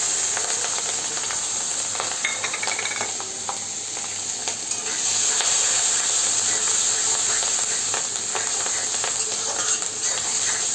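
Onion, garlic and green chilies frying in hot oil for katla fish curry, a steady loud sizzle and hiss throughout with occasional stirring scrapes.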